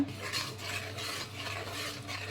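A spoon scrapes rhythmically through thick finger millet (nachni) batter in a pot over low heat, soft repeated sweeping strokes about twice a second, quiet and close with no talking.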